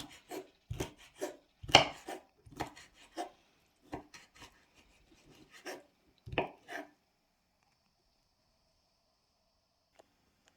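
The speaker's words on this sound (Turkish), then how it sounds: "Fasulye turşularımızı doğruyoruz." A knife chops pickled green beans on a cutting board in a quick run of crisp, close knocks, slowing to a few final cuts before going quiet.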